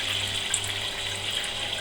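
Water trickles slowly from a sparge shower head onto the grain bed during a home brew of a hazy double IPA, a steady close splashing hiss without pause or speech.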